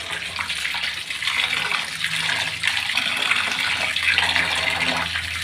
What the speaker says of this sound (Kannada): ಸ್ವಲ್ಪ ನೀರು ಹಾಕ್ಬಿಟ್ಟು